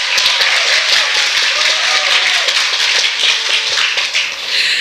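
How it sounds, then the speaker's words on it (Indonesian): Audience applause at a startup meetup event, dense sustained clapping from a crowd filling the room, steady and loud throughout. "Tepuk tangan dulu dong."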